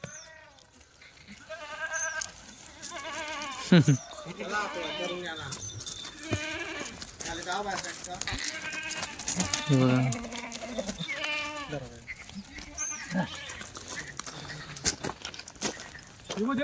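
Kathiyawadi goats bleat repeatedly amid a busy herd, their calls overlapping with someone talking nearby throughout.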